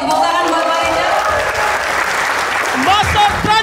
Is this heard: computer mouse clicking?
no